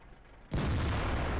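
A tank cannon blind-fires in World of Tanks, a single loud booming blast that cuts in abruptly and rolls on with heavy low rumble after a quiet start.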